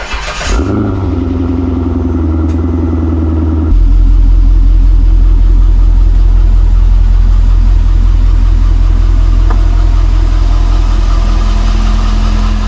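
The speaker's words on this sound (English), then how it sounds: "let's back this bad boy out" A Corvette engine starts and settles into a loud, close, steady idle as the car backs out, its deep rumble getting louder after a few seconds and holding even to the end, with no talking.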